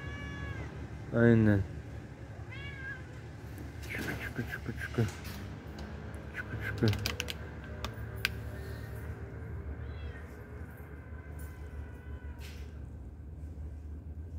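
A cat meows a few times at close range, with one loud, drawn-out cry early on and softer mewing later, while a person talks over and between the calls.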